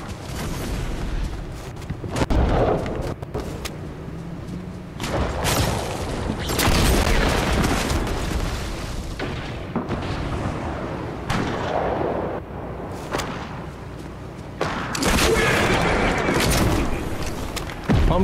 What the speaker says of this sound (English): Got a bazooka now.